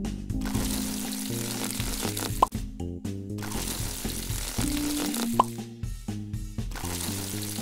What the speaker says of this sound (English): Tap to water the plants.